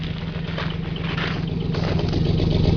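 A Ford truck's engine idles steadily, a low continuous rumble with a faint hum, close and even throughout with no speech.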